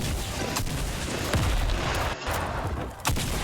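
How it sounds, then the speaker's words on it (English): Gunfire in Fortnite: loud, dense rapid shooting and impacts fill the whole stretch as a continuous roar, with a brief dip midway before the shots resume. "He's shooting me."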